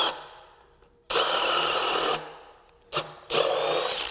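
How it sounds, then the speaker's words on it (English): A DeWalt cordless drill with a spade bit whirs loudly in two bursts, about a second each, with quieter gaps and a brief blip between them; close and harsh. "Moving the drill around."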